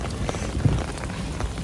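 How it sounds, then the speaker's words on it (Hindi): Heavy rain pours down on a mountain trek to Triund near McLeod Ganj in Himachal Pradesh, a dense continuous hiss with low rumbling and a few dull knocks, no talk. "मूसलाधार बारिश यहाँ पर हो रही है"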